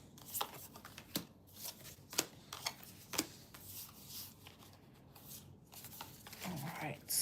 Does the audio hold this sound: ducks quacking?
no